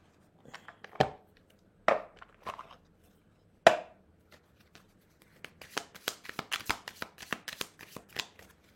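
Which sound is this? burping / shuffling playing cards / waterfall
shuffling playing cards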